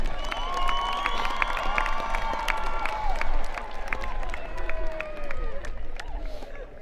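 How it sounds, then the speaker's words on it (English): Audience applause at a 2022 career and technical center commencement ceremony, a steady wash of clapping with scattered cheers and shouts running throughout, fairly distant and uniform. "Another nice round of applause for our health assistant."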